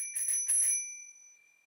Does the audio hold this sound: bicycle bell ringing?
yes